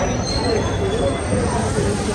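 A crowded passenger train stands at Jalandhar station on the Amritsar to Anandpur Sahib route during Hola Mohalla, giving a steady rumbling hum and faint squealing tones, with voices murmuring throughout.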